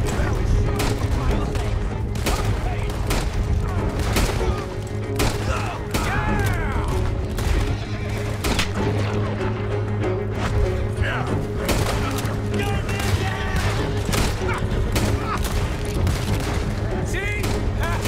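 Gunfire from Red Dead Redemption 2 crackles in dense, continuous volleys with heavy booms, layered over game music and mixed with shouting voices.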